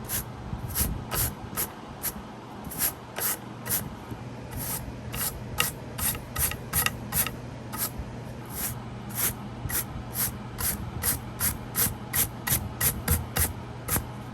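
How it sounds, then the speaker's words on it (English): A brush scrubs dirt off the filter of a portable air conditioner, close and quiet, with a long run of quick, evenly spaced bristle swipes in a brisk rhythm. "Let's see if we can use this brush to brush everything away and see if we can get this stuff cleaned up."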